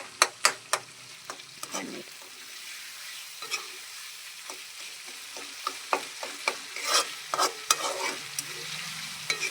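Tomato and pea curry sizzles in a pan while a spoon scrapes and stirs it in quick, irregular clinks, close and fairly quiet.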